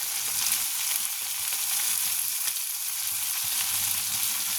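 Vegetables and paneer fry in a pan after turmeric and cumin powder go in, producing an even, continuous hissing sizzle with faint scrapes of stirring and no speech.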